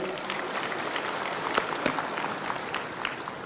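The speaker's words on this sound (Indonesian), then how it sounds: "CPNS juga, tepuk tangan juga." An audience at a civil servant swearing-in and decree-handover ceremony claps steadily throughout, a sustained wash of applause with a few sharper individual claps standing out.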